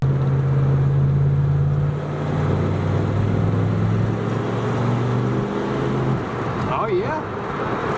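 A 1981 Pontiac Trans Am V8 with a Quadrajet carburetor idles with a steady low rumble, close and even, while people talk over it.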